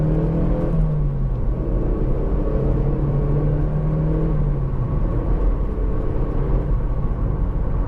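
Mazda MX-5 2.0 with hard top cruising at the legal speed limit: a steady, fairly loud engine drone and road rumble with a low tone that shifts slightly in pitch, no talking, continuous throughout.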